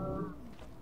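A short low grunting squeal from a pig being beaten in the video game Don't Starve, a single falling animal cry, fairly close and alone.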